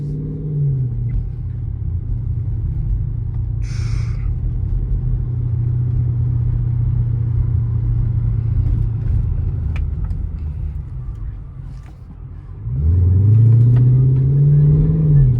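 A Chrysler 300 SRT with a burble exhaust tune drives along with a steady, deep engine rumble heard from inside the car. Near the end the engine revs up in a louder rising surge.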